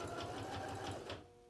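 Sewing machine running steadily as it stitches fabric for a fabric bin, with a fast, even mechanical rhythm that slows and stops near the end.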